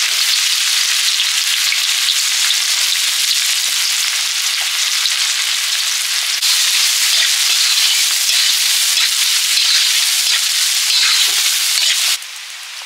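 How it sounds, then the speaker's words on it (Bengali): Onions sizzling steadily in hot oil in a kadai while biryani is being cooked, a dense continuous frying hiss with faint stirring scrapes throughout, ending in a quieter sizzle. "তেল দিয়ে পেঁয়াজ দিলাম"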